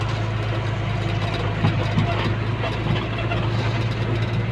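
A boat engine idles steadily at close range in a Thai village waterway setting, with a constant low rumble and a faint tonal hum, no voices over it.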